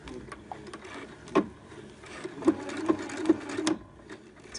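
Sewing machine stitching a zipper, short bursts of close mechanical needle clatter with a few sharper knocks, fairly quiet and without talk.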